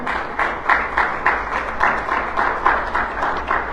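A church congregation claps during a Spanish-language sermon, a fairly small group beating out a regular rhythmic pattern with distinct pulses about every third of a second.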